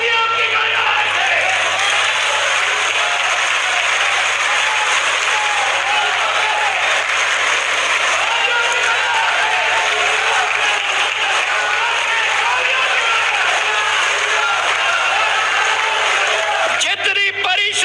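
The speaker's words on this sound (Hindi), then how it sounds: "तालियों की गड़गड़ाहट से धन्यवाद दिया जाए" A large crowd at a political speech in Shivpuri claps loudly and continuously, a dense thunder of applause with voices and cheering mixed in throughout.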